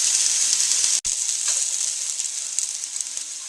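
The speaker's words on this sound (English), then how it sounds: "I'm just going to add some red wine to deglaze the pan" Red wine poured into a hot pan of mushrooms, shallots and onions, giving a loud, steady close sizzle with a brief break near the start, with no voices.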